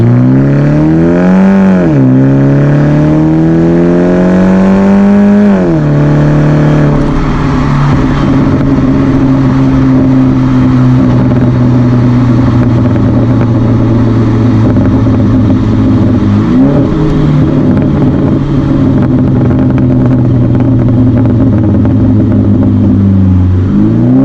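BMW 1 Series E88 coupe with a custom exhaust and open manifold, heard from inside while driving: a loud, continuous engine drone rising through the gears with distinct revving shifts, no talking.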